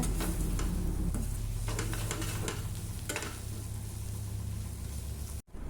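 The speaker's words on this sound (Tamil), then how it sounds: "இஞ்சி பூண்டு பச்சை வாசனை போகும் வரை வதக்கிக்குங்க." Ginger garlic paste and green chillies being sautéed in a pan for prawn thokku, a loud, dense, continuous sizzle with repeated scraping stirs of a spoon, close by and without speech.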